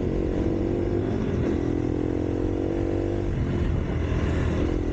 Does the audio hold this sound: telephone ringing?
no